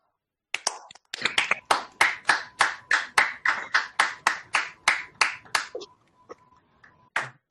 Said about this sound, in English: unmute ourselves once again and give David a big round of applause.